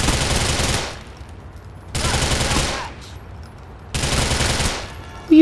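Automatic gunfire in the game GTA 4 comes in three loud sustained bursts, each lasting about a second, separated by quieter gaps.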